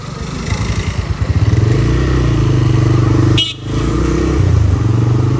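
A motorcycle engine starts up and pulls away, its rhythmic putter building into a steady, loud ride with a brief dip partway through.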